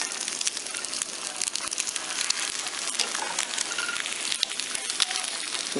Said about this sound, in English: So we're frying up the eggs right now